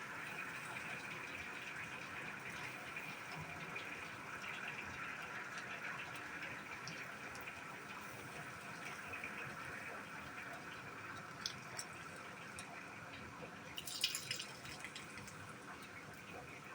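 Maple sap trickling and dripping from a spout in a sugarbush, a faint, steady watery flow with a few brief louder splashes near the end.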